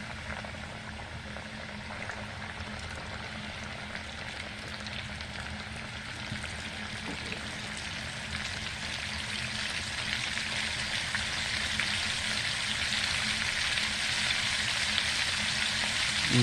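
Chicken pieces frying in hot oil in a skillet, a steady dense sizzle and crackle that runs the whole time and grows slightly louder toward the end, with no talk.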